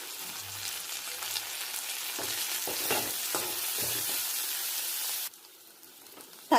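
Shallots and a small tomato sauté in a pan for a mutton fry, a steady moderate sizzle with a few scraping stirs that cuts off abruptly near the end, leaving quiet.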